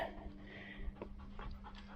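A dog pants quickly and rhythmically at close range during a hill walk near Grange-over-Sands and Hampsfell, with short breaths repeating steadily under a low background hum.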